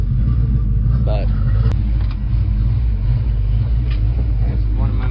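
A 1989 Ford Mustang Foxbody's exhaust drones in a steady, smooth low rumble while driving, loud and continuous throughout with faint cabin noises above it.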